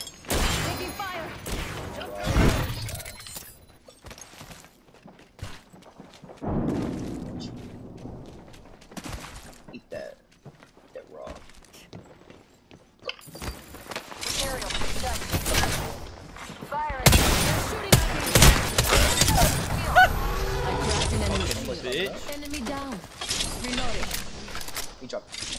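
Gunfire in the Apex Legends video game, with scattered shots and louder bursts of rapid fire in the second half, mixed with game effects while players talk over it.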